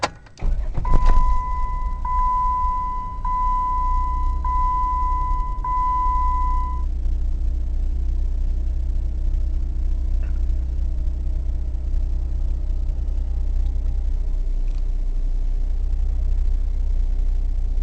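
A Jeep engine cranks and catches, then settles into a steady low idle while a repeating electronic chime beeps for several seconds.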